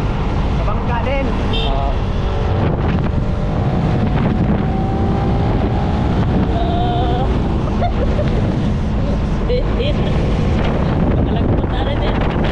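A gasoline motorboat engine drones steadily on open water, with wind buffeting the microphone and people talking over the running motor.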